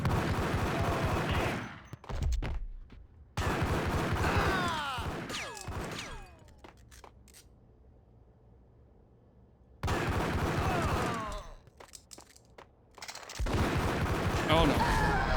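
Gunfire in the Max Payne video game: dense, loud bursts of shots, then a quiet stretch before the shooting resumes in heavy volleys.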